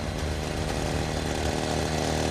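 A power saw runs steadily to cut steel wire resting on a light bulb during a blindfolded firefighter challenge at a competition final, its motor drone loud, close and unbroken throughout.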